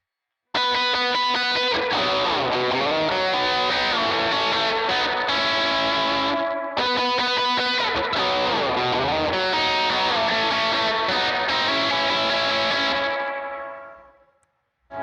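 A distorted electric guitar plays a solo motif, bending notes over a sustained, effects-laden tone, repeating the phrase twice before fading out.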